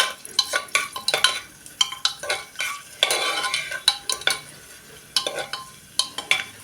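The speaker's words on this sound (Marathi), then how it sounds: "काजूच्या मी ह्या पाकळ्या करून घेतले ह्या आपण थोडा वेळ परतूया" Cashew pieces and cloves sauté in a pan, with frequent metal spoon scrapes and clinks against the pan over a soft sizzle, close and irregular, and no voices.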